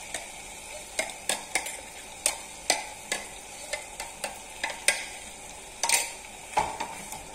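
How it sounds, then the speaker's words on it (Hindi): Spinach puree with cream being stir-fried in a pan, heard as a series of distinct spoon scrapes and knocks at an irregular rhythm over a faint sizzle, close and alone with no talking. "सात से आठ मिनट के लिए इसको हम अच्छे से भून लेंगे"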